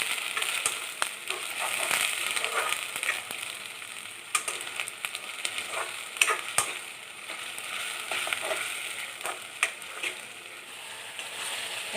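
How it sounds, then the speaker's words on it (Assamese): A ground paste of garlic, ginger, cumin, chilli and curry leaves fries steadily in a pan for a chicken curry, a continuous hiss and sizzle with scattered scraping and tapping of a spoon, no one speaking. "এয়া দেখিছে মই পেষ্টটো ভালদৰে ভাজি লৈছোঁ।"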